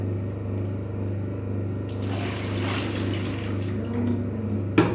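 Water is poured over a small child bathing in a childhood tub, giving a soft splashing gush that starts partway through over a steady low hum, with a sharp knock at the end.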